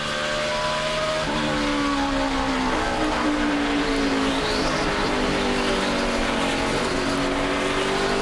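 NASCAR stock cars race at speed in the 2008 Chevy Rock & Roll 400, engines roaring loudly and continuously, with shifting pitch as several cars pass close together.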